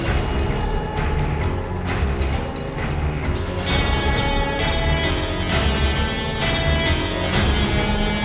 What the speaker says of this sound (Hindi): वो मेरा फोन बज रहा है।